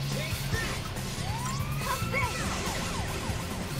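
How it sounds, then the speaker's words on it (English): An enemy's siren wail in the video game Final Fantasy XIII-2: rising and falling whoops sweep repeatedly over game music and battle effects, moderately loud in a busy mix. "He has a siren. I love his sound."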